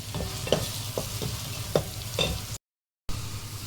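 Two garlic cloves and a small onion sauté in a pan while a utensil stirs them. Soft sizzling sits under several distinct scraping knocks, and the sound cuts out completely for a moment before the stirring resumes.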